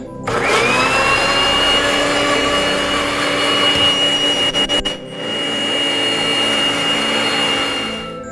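A blender pureeing an orange curry sauce roars loudly and steadily, briefly sputtering before the motor settles into a smoother, slightly lower whir that fades at the end.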